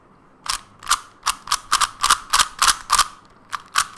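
Gans 356 Air SM speed cube turning under fast solving, a string of sharp plastic clicks and ratcheting snaps in quick irregular bursts, close and fairly loud with no talking.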